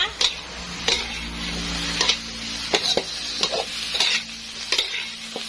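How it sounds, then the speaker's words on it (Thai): Pickled mustard greens stir-fried in a pan: loud, close sizzling and frying under repeated spatula scrapes and taps against the metal, coming roughly once a second, with no talking. "ผัดให้เข้ากันดีนะคะ แล้วก็ เราจะต้องการให้ น้ำของเขาเนี่ยแห้งนะคะ"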